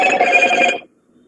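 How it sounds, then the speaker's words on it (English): A single telephone ring sounds during an online class call, a bright electronic trill lasting under a second before cutting to near silence. "there's a phone ring"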